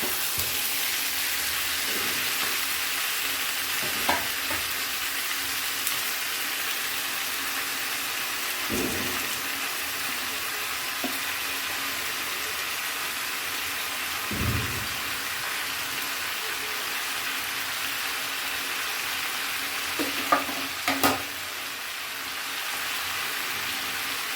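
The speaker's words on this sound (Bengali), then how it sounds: "আরেকবার নেড়ে দিচ্ছি, আর সেই সাথে বাঁধাকপি আর শিম এইগুলো এর মধ্যে দিয়ে দিচ্ছি।" Cabbage and beans with other winter vegetables fry in a pan, giving a steady, dense sizzle like rain throughout, with occasional soft scrapes and knocks of stirring; no speech is heard.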